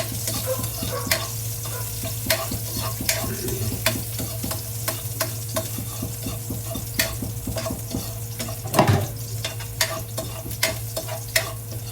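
Garlic crackles and sizzles in an oiled pan while a utensil scrapes and taps against the metal in a steady, repeated stirring rhythm, close and continuous with one sharper clatter.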